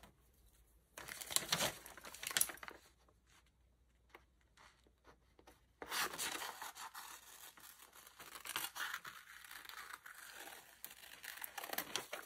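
Paper being cut and handled while making lemon shapes for a glue book, with soft crinkling, rustling and snipping sounds, quiet at first, then denser and steadier handling noise; no talking.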